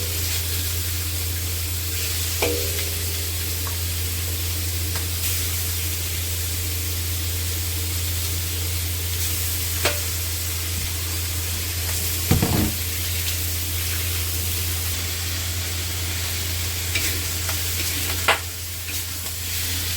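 Meat browning in a little oil in a pan for Bicol express sizzles steadily and close for twenty seconds, over a low constant hum, with occasional sharp utensil clatters and scrapes.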